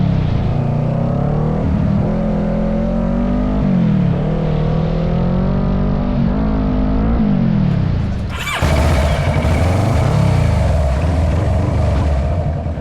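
A Kawasaki ER6N motorcycle is ridden with its engine note rising and falling through gear changes, loud and close, then wind rush swells as the bike picks up speed.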